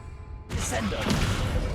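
A Descendo spell in Hogwarts Legacy slams a target down, a sudden broadband impact after a half second of quiet ambience, followed by a dense, loud crashing rumble that keeps going to the end.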